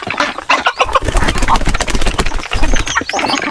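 Black Australorp chickens on a small farm clucking and squawking loudly close by, a dense busy flock chorus with overlapping calls throughout.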